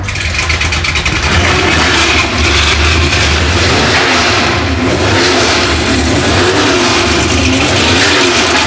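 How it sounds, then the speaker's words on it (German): A classic Porsche engine revs hard and loud, a close, sustained roar climbing and holding at high throttle for several seconds without any talk. "Ich gebe Gas."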